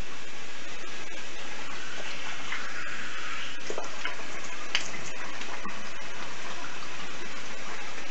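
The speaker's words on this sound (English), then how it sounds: "I'm gonna rinse the face." Running water splashes steadily from a sink tap while a man rinses lather from his face after shaving, a continuous close gush with small splashy bursts and no speech.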